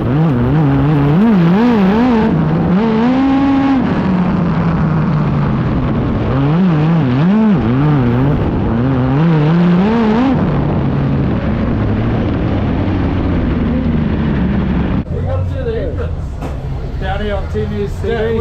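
A midget race car engine lapping at Waikaraka Raceway in New Zealand, a loud droning roar with rising and falling pitch sweeps as it gains speed, heavy throughout, with talk over it near the end.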